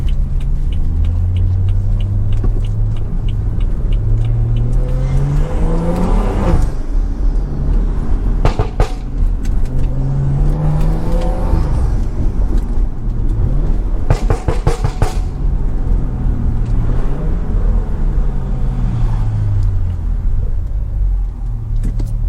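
A BMW F30 with XHP transmission tuning accelerates hard, its engine note climbing in repeated rising sweeps with quick drops at each gear shift, loud and close from inside the cabin.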